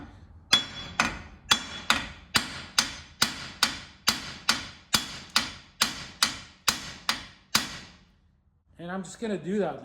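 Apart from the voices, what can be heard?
hammering around Jeep Dana 30 axle U-joint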